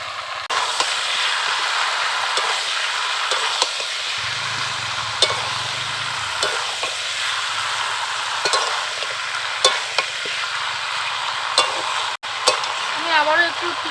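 A pan of country chicken curry with fried capsicum gets stirred, a steady close sizzle overlaid by repeated spatula scrapes and light knocks, with a brief low hum partway through.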